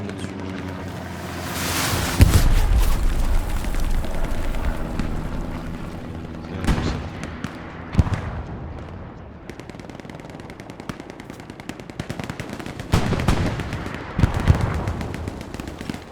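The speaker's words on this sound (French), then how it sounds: "J'ai envoyé de l'artillerie" Artillery barrage in the World War II shooter Hell Let Loose: a sustained din of rumbling explosions and rattling fire, loud and continuous, with heavier blasts booming out around the middle and near the end.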